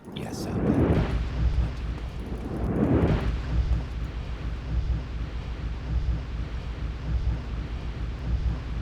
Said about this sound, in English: Do not interrupt a man while he's doing his fire magic.